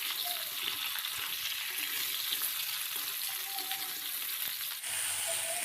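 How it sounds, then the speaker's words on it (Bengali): Chopped ridge gourd fries in a pan with a steady, moderate sizzle throughout, broken by soft scraping and stirring sounds as the pieces are turned, and a brief dip in the hiss near the end. "ঝিঙেটা দিয়ে খুব ভালো করে নাড়াচাড়া করে আরও কিছুক্ষণ ভেজে নেব।"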